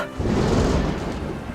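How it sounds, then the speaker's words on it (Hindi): Heavy rain pours over a farm field with a deep thunder rumble underneath, a loud, dense, steady wash of noise with no voices. "उसके आसपास टप टप करती चमचमाती बूंदें गिर रही हैं।"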